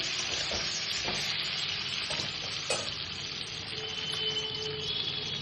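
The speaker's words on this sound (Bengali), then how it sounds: "ডিমটাকে আগে ভেজে নেবো হালকা করে" Eggs frying in oil in a pan, a loud, continuous sizzle close by with a few soft scrapes of stirring.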